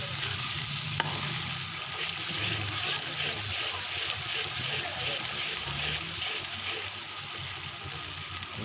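Masala frying in a handi pot over a wood fire in a village kitchen, giving a steady, continuous sizzle with light stirring scrapes throughout, close and even, with no talking.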